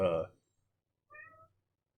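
A young cat gives a short, high meow, heard clearly and close in a quiet room just after a person speaks briefly.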